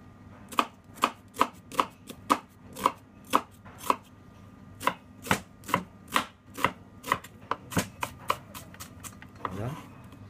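Red onion being chopped with a knife on a board for a chickpea salad, about twenty sharp, evenly spaced thuds close up, with a brief scrape at the end.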